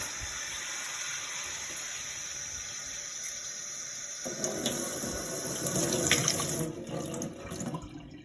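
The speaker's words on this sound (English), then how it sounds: "That's the rubber glove, full of water. It's dripping a little bit because I've spilt it." Water running from a tap into an ordinary cheap rubber glove, a steady gushing fill that swells louder in the second half before stopping abruptly, with no talking.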